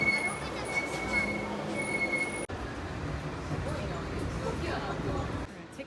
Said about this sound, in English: Then we're gonna get back on the monorail